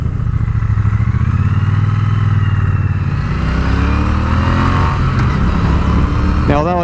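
A Triumph Bonneville T120 twin-cylinder motorcycle engine while riding, a loud steady throb that rises as the rider accelerates, with wind rush and a brief mechanical clatter near the end.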